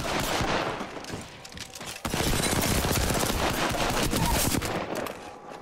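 Sustained automatic gunfire in a video game shooter, with rapid continuous bursts rattling loudly across the whole span and a brief pause early on before the firing resumes.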